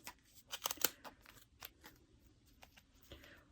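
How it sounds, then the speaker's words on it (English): Small scissors snipping around a channel in fabric while sewing a Christmas project, a cluster of sharp close snips early on and a few fainter cuts after, with no talk. "put the scissors against this channel and cut all the way around"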